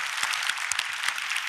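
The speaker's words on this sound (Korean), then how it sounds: "감사와 영광의 박수 올려드립니다." Church congregation clapping in thanks during a special dawn revival service, a dense steady patter of many hands filling the whole moment without voices.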